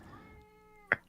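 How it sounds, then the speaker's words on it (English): A house cat gives a single short, loud meow near the end, close to the microphone, after a stretch of quiet room tone. "That's my cat."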